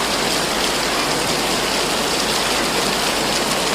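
Heavy rain falls in Saputara, a loud, dense and unbroken hiss of downpour on surfaces close by, with no voices.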